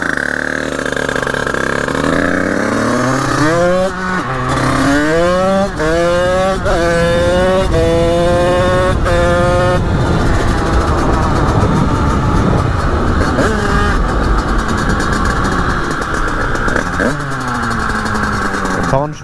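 A light Honda HM 86 motorcycle with an aluminium top end, built for wheelies, ridden hard: loud, close engine revs climbing through the gears in repeated rising sweeps, then a sustained raspy drone.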